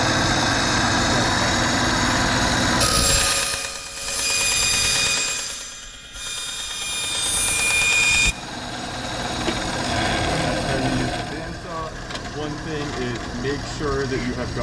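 A bandsaw runs and cuts through material, a steady loud mechanical drone with a brief higher whine partway through, while a person talks over it.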